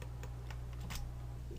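A single key press on a computer keyboard, a shortcut tapped while working in Cinema 4D 3D software, heard as a few faint, sharp clicks over a steady low hum.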